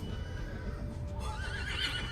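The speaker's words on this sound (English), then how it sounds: "So why is there even a horse on there?" A horse whinnies with a rising, wavering neigh over steady low background rumble, fairly near and clear, with possible faint hoof clops.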